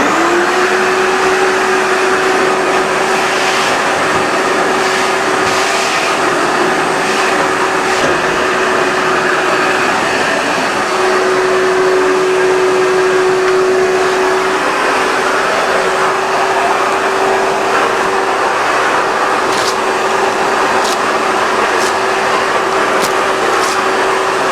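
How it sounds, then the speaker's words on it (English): Vacuum cleaner fitted with a hard floor tool running on a hard floor during lead-safe interior work cleanup, a loud continuous whine with a steady tonal hum and occasional brief clicks, no talking. "he'll vacuum his way out with the hard floor tool"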